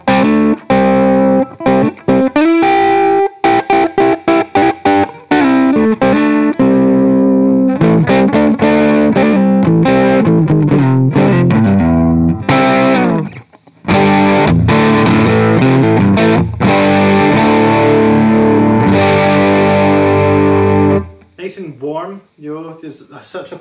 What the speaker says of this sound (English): we're going to get a little bit of a dirtier tone